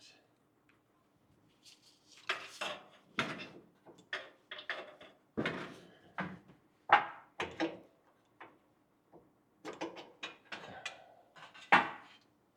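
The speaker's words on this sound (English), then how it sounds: "You just pull that clip and then slide the pin out." A clip is pulled and a metal pin slid out of the skid plate strap on a second-generation Toyota Sequoia, giving a series of close metallic clicks, scrapes and knocks in irregular bursts with short pauses between them.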